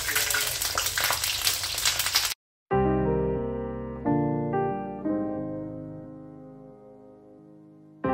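Chicken nuggets fry in a pan with a steady, close hiss and sizzle for about two seconds, then give way abruptly to gentle background music.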